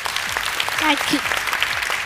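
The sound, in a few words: applause for the daughter's song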